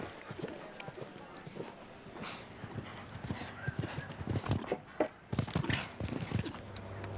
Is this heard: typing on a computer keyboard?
no